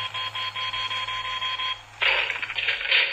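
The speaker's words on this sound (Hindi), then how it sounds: "तो दोस्तों, ये आपका म्यूजिक बजेगा।" A transparent toy gun plays a shrill electronic tune, a bright repeating beeping melody that switches to a busier, louder pattern partway through, heard alone.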